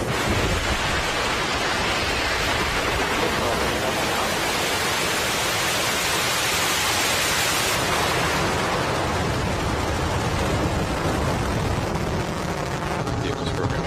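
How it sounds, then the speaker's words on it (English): A SpaceX Falcon 9 rocket launch, its Merlin engines producing a loud, continuous broadband roar and crackle that fills the whole stretch with steady intensity, eases slightly partway through, and continues unbroken. "The Merlin engines have throttled down in preparation for passing through the period of maximum dynamic pressure."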